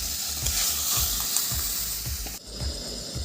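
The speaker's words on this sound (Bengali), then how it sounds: "একটু ভালো করে নাড়াচাড়া করে নেব" Boiled mung dal and spinach being stirred in a spiced pan, a spoon scraping in regular strokes about every half second over a constant sizzle, close and fairly loud with no voices.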